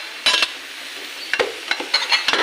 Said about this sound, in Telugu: ఇది బాగా కలుపుకోవాలి.